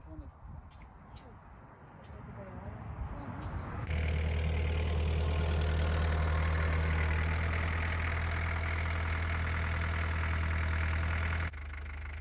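Farm tractor engine starting up and then running at a steady, loud mechanical idle for several seconds, close by, before cutting to a quieter outdoor background with birds.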